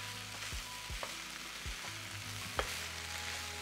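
Ground beef and mozzarella filling stirred in a hot pan, a steady close sizzle broken by several soft scraping strokes of the spoon, with no voices.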